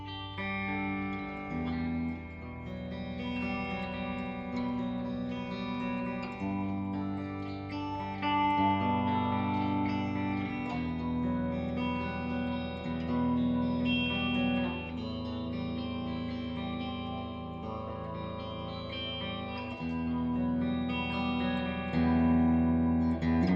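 Distorted electric guitar through Les Paul 57 Classic pickups playing a steady chord riff with sustained, layered tones and some effects, loud and continuous throughout with no voices.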